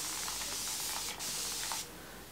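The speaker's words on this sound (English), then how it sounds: "I'm just going to spray my curls down." A close, continuous hissing mist from a spray bottle of water and conditioner sprayed onto curly hair, with a short pause, then the spray cuts off.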